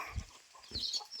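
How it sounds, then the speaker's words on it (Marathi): A chicken clucks a few short times close by, quiet and alone, on a poultry farm in Konkan. "कोंबडी"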